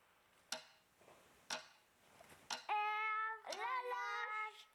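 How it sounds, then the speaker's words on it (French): A clock ticks three times, each sharp tick about a second apart, then a cat meows twice over a quiet background. "L'horloge, vous croyez? Oui. Qui fait tic-tac?"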